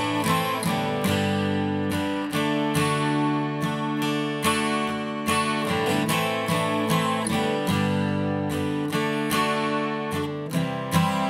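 A 12-string acoustic guitar plays the steady, rhythmic intro pattern of a song in plucked and strummed chords, close and clear, with no voices.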